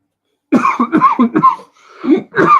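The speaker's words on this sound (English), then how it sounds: "Oh, coughing." A burst of close, loud coughing: several rapid coughs in a row, a short pause, then two more harsh coughs.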